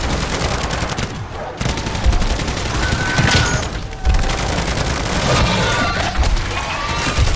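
A deployed sentry gun in a video game fires rapid bursts of automatic gunfire, loud and dense, mixed with crashes and impacts across several seconds with brief pauses, no talking.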